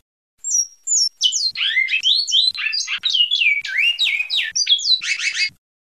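A bicudo, the great-billed seed finch, sings its full song without breaks: a clear, loud run of whistled, sliding notes and chirps in quick succession, ending in a fast trilled burst, heard alone and close.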